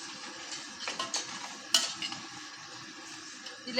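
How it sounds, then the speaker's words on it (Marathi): A spoon scrapes and clinks against a pan as something is stirred and dry-roasted, with light irregular taps and a soft sizzle underneath. "आधी जरा चांगलं भाजून घ्यायचं"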